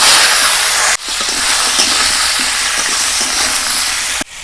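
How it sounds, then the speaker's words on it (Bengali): Papaya, potato and green banana pieces frying in hot oil in a wok, a steady loud sizzle and crackle throughout, with abrupt breaks near the start and end. "এই তেলের মধ্যে আমি কি কি ভেজে নেব একবার দেখে নিন। পেঁপে, আলু, কাঁচকলা"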